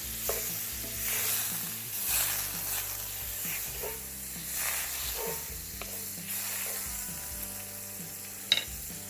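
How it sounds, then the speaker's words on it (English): Shrimp cooking in melted butter in a hot pan, a steady sizzle with occasional stirring clatter and scraping, close and moderately loud throughout with no talk. "We're gonna add some butter and we're gonna cook our shrimp."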